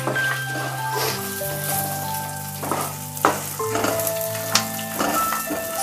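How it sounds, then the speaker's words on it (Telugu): Peanuts and 10 to 12 dried red chillies frying in a pan, a loud close sizzle with crackles and a couple of sharp pops, under steady background music. "ఒక 10 నుంచి 12 ఎండుమిర్చి తీసుకున్నాను, ఎండుమిర్చిని కూడా ఇందులోనే వేసుకొని ఫ్రై చేసుకుందాం"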